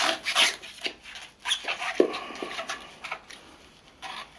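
A sharp folding knife, the Extrema Ratio RAOII, scrapes fibrous coconut husk in short rasping strokes with scattered dry scratches, close and fairly quiet, with no voices.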